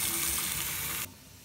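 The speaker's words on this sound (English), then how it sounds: "The next step is to turn the cold water on and check for any leaks underneath this valve body." Water runs steadily from the cold faucet valve of a newly installed pedestal sink in a small bathroom, a close, bright hiss that stops abruptly near the end, leaving quiet room tone.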